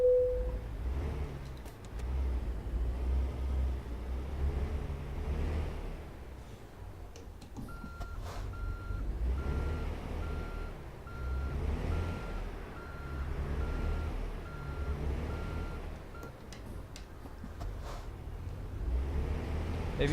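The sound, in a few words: truck engine starting and driving, from video game American Truck Simulator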